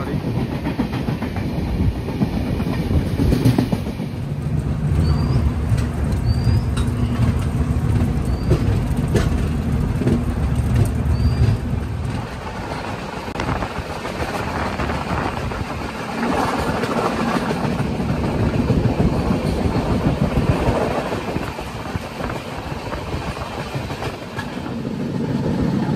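A Coimbatore Express passenger train runs on rails in India, heard from inside as a loud continuous rumble with rhythmic wheel clatter that eases slightly midway, then resumes.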